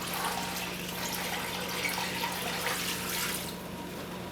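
A gallon of ice-cold water pours into a turkey brine, giving a steady, close rushing splash that holds for several seconds before easing slightly at the end.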